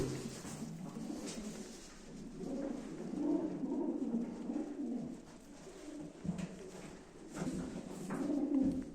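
Pigeons coo steadily at a live pigeon auction, a dense murmur of many birds close by continuing through the whole stretch with no talk.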